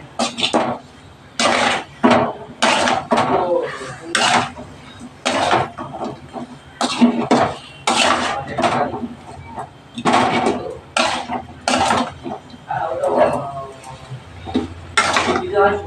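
A metal spatula scraping and knocking in a pan over a gas flame, in repeated quick bursts of stirring with brief pauses, close and fairly loud.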